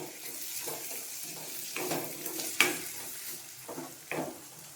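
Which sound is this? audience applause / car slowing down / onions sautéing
onions sautéing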